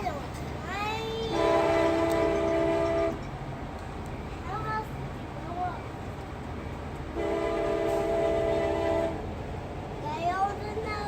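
Capitol Corridor passenger train rolling past with two long, loud horn blasts, the second around the middle of the stretch, over steady rail rumble, with people talking nearby.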